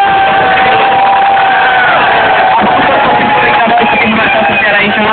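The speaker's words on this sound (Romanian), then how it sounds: "Puține aplauze" A crowd at an outdoor event in Romania applauds and cheers loudly, a dense continuous roar of clapping and shouting mixed with babble.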